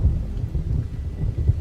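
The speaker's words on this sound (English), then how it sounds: "the distant low-rolling sounds of Dieterschaffen and the pouring rain and thunder" Deep rumbling thunder rolls under heavy pouring rain, a dense low continuous roar in a fantasy storm scene with no voices.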